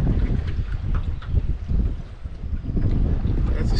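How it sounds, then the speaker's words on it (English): A northeast wind gusts over Milford Lake in Kansas, buffeting the microphone with uneven low rumbling gusts that run through the whole stretch. "this morning we wake up to a nice northeast wind"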